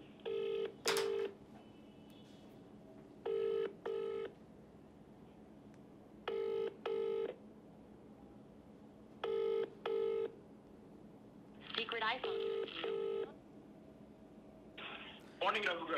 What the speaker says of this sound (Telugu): పాపారావు గారికి ఒకసారి ఫోన్ చేద్దాం.